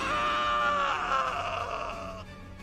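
In a Chinese fantasy audio drama, a ghost lets out a shrill, agonized scream voiced by an actor: one sustained, wavering, high wail lasting about two seconds, close and loud before fading.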